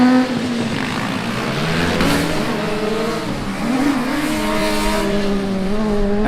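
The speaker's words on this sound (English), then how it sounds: "Dresden on track right now, another electric car" Formula Student race cars, electric ones among them, run on an endurance track, a whining drivetrain rising and falling in pitch as a car accelerates and passes, loud and steady throughout.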